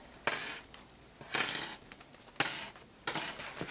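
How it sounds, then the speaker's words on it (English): Binder clips being pulled off a handmade sketchbook: four separate crisp metallic snaps and rattles, close and clear, with short quiet gaps between them. "And now we can take our binder clips off."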